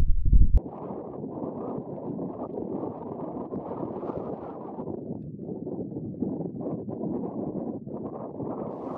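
Strong wind blows across a Scottish hillside near Carn nan Gabhar, a steady loud roar buffeting the microphone with rising and falling gusts. No voices are heard.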